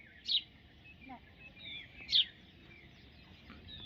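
Two short, bright chirps from a sparrow, about two seconds apart, over a quiet background.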